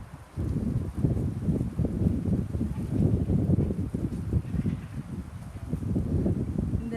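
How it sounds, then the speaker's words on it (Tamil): A strong wind blows through a garden of flowers and vegetables in London. It buffets the microphone in loud, low, gusty rumbles that rise and fall for several seconds, and no one speaks. "சரியான காற்று எப்படி இருக்குன்னு பாருங்க."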